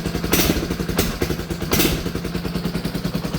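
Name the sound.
quad bike engine revving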